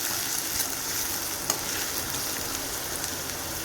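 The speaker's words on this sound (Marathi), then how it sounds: "आता कांदा चांगला भाजून घ्यायचा" Finely chopped onion frying in a pan with curry leaves, a close, even hiss of sizzling oil with an occasional stir tap, no voices.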